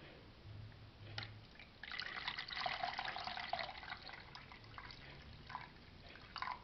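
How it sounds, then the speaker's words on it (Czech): Water runs into a container while making a gelatin dessert, a steady trickling pour that swells in the middle and tapers off, close and fairly quiet. "A teď to doplním vodou"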